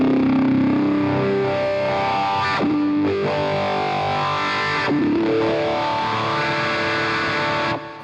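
A fuzzy, distorted electric guitar played through a Jam Wahcko wah pedal holds thick sustained notes, its tone shifting with sweeping filter changes, loud and alone.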